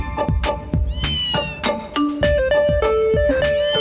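A cat meows over and over among rhythmic percussive music, short tonal calls set against a dense, loud backing in a domestic scene.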